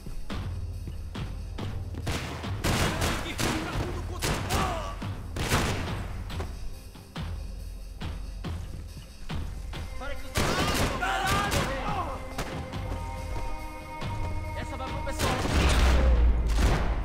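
Rapid automatic gunfire from a 75-round drum-magazine gun in Max Payne 3, loud sustained bursts and fusillades with thumps and booms, broken by brief pauses and building to a heavy final volley.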